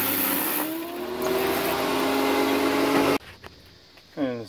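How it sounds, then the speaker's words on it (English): A small electric pressure washer runs loud and steady with a whining motor tone and hissing spray while blasting an oven-cleaner-coated car engine bay on a 383 build, then cuts off abruptly, followed by brief quieter sounds. "And I've got this little stupid pressure washer."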